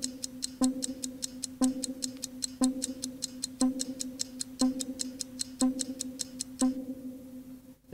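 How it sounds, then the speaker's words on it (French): A steady ticking clock countdown effect runs alone, regular ticks about one per second with a low bell-like pulse every second, ending abruptly. "on va mettre un petit tic-tac"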